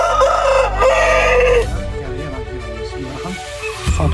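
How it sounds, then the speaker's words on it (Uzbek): A young May-hatched rooster gives one loud, close crow lasting about a second and a half, followed by softer clucking and other bird calls. "Cho'ja xo'roz mayskiy."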